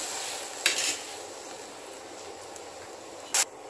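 Ground masala paste for raw jackfruit kurma goes into a hot pan with a soft, steady sizzle, marked by two sharp metallic clinks of a utensil against the pan.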